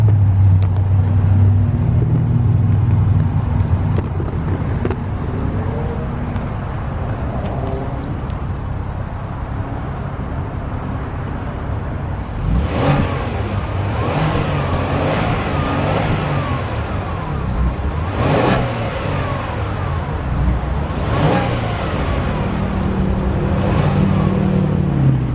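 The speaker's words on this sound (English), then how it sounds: "get y'all this exhaust note real quick" A 2019 Genesis G80 3.3T Sport RWD rumbles at idle, then several sharp revs rise and fall in quick bursts, close and steady with no voices.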